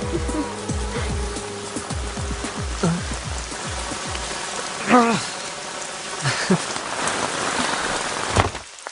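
Heavy rain pouring down, a dense continuous hiss with scattered drips and splashes, and a low rhythmic thumping fading out early on.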